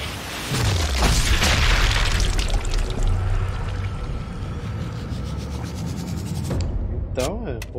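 Explosions in the video game Sniper Elite 5, a heavy booming blast with a rumbling low tail that fades over several seconds, with a voice talking over it.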